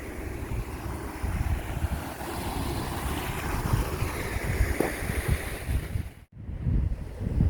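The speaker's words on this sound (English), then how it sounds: "paddle wide open, and water just running through the lock" Water rushing steadily through a canal lock with a paddle wide open, a continuous broad roar and splash close by, briefly dipping before resuming.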